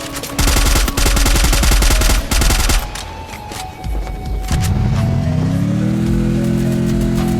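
Rapid automatic gunfire in the mobile shooter Free Fire, dense bursts of shots close and loud, then scattered shots and a rising engine-like drone as the firing stops.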